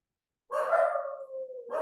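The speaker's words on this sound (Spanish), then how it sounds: "ahorita mis perritos todos quieren ladrar" Pet dogs bark indoors in a drawn-out, whining bark followed by another, close and fairly loud, with no talk over them.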